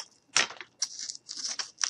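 Several crisp snips and slicing rustles from scissors cutting through material, in short irregular bursts with quiet gaps between them.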